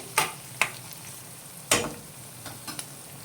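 Small onions tumble into bitter gourd frying with garlic and curry leaves, giving a few quick stirring scrapes and short soft sizzling bursts against a quiet background.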